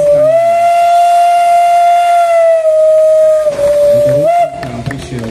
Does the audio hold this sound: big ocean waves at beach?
no